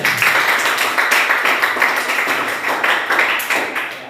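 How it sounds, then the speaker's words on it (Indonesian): Audience applause in a classroom, with a steady patter of many hands clapping at close range that stays even throughout and ends without any voices. "tepuk tangan untuk Belina dulu ya"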